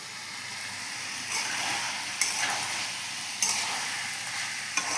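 Chicken is sautéed (kosha) in a pan, giving a continuous sizzle broken by several scraping stirs and occasional light knocks of a utensil against the pan, close and steady, with no voices.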